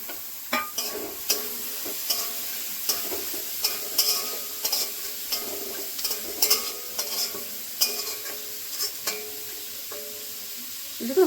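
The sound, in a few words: capsicum, tomato, carrot and beans frying and being stirred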